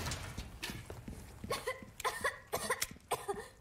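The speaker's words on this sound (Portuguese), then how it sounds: "Eita, tosse, hein, Ashley? Tudo bem?" Ashley, a young woman in the game Resident Evil 4 Remake, gives a short run of coughs, several sharp bursts in quick succession, heard close and alone without talk.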